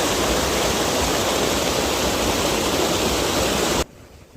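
Rainwater runs hard after a heavy downpour in Rwanda, making a loud, dense, close rushing sound that holds steady and then cuts off abruptly near the end.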